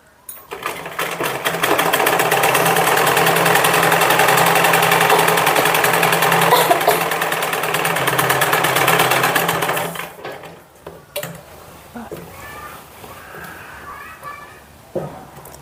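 Sewing machine stitching a kurti, running in one loud steady buzzing stretch for about eight seconds before stopping abruptly, then quieter handling sounds and someone talking close by.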